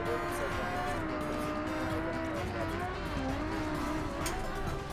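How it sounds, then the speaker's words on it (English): A car engine in the BeamNG driving game roars continuously at high revs, its pitch rising and dipping with gear and throttle changes, loud and steady across the whole stretch. "It's the roaring of the freaking engine you can't overhear from"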